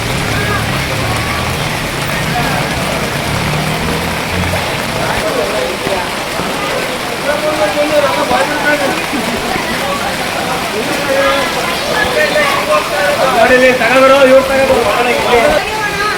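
Heavy late-night rain in Koratagere pours in a dense, constant hiss, loud and close, with faint voices in the background.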